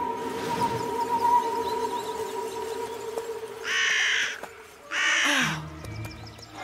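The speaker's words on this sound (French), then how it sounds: "C'est Micmac le corbeau." A crow caws twice in a French Yakari cartoon, two loud harsh bursts near the end over a soft music bed and ambient background.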